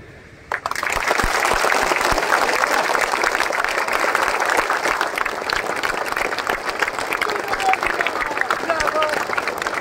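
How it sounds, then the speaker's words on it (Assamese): A large crowd at an Akhil Gogoi panchayat election campaign rally breaks into loud, sustained applause, dense clapping that starts abruptly and keeps going for nearly ten seconds. "আৰু এটা হাত তালিৰে মোক দোৱা কৰিব।"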